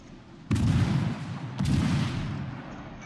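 Warship guns fire in a naval video game, two heavy booming salvos about a second apart, each a sharp loud blast trailing into a long rumbling decay.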